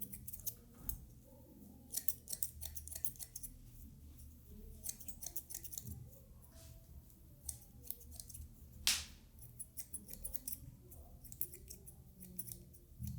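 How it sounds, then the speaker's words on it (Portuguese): Thinning scissors snip through a client's hair at the nape during a taper fade, making rapid clusters of crisp metallic clicks in irregular bursts, up close with no talk. "Tesoura dentada, só tirando o peso mesmo."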